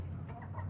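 Hens of a newly kept breed give a few soft clucks close by over a steady low hum.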